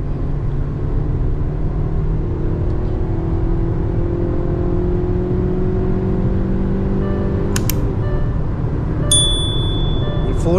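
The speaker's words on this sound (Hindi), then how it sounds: "और ये सेकेंड गियर पे और ये थर्ड गियर पे एक्सेलरेशन है।" A Hyundai Verna 2024 with a 1.5 L engine accelerates through second and third gear, a steady engine drone with a rising tone under road and wind noise, followed near the end by a couple of sharp dings.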